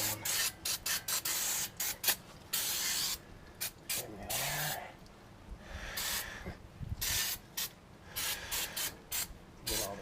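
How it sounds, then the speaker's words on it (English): Brake cleaner sprayed onto a front brake rotor on a Dana 44 axle in repeated short, loud hissing bursts with brief gaps, some longer blasts, and no talking. "spray this down with some brake clean"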